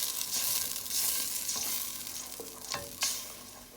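A spoon scrapes and stirs spices and ingredients through a sizzling chicken curry in a pot. A continuous fry hiss runs under a few distinct knocks and scrapes near the end, with no voices.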